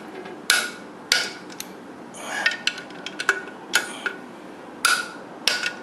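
Sharp metallic clicks ring out one at a time in an irregular rhythm as a torque wrench snaps over on the clutch bolts of a 427 Cobra, tightened in a star pattern. The clicks are close and crisp over a quiet background.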